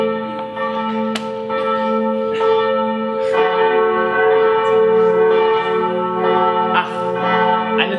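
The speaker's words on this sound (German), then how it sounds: "Die Glocke dröhnt in Göln!" A large church bell tolls repeatedly, loud and resonant, its long humming overtones ringing on continuously between strikes.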